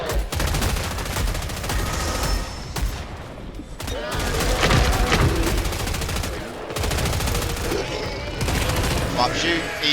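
Rapid automatic gunfire in the co-op shooter Killing Floor 3 rattles almost without pause in dense bursts, with booms and game effects mixed in and a player talking over the shooting.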